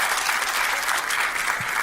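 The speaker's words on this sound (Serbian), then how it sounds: "Možete aplauz slobodno, da." An audience at a stand-up comedy show claps steadily, a dense, even burst of applause filling the room without a break.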